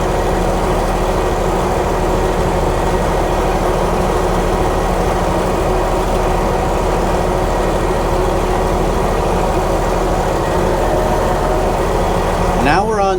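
Tractor engine running steadily from inside the cab, a continuous low droning rumble with the heater blowing, loud and unbroken throughout.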